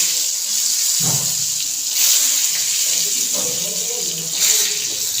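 Water runs steadily from a tap indoors, a constant hissing splash with brief clunks and shifts in the flow, close and fairly loud throughout.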